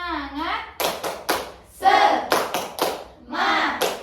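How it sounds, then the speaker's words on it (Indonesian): Children clap a quick rhythmic class cheer in a classroom, sharp bursts of claps landing between their loud chanted words, close and lively. "Tepuk semangat."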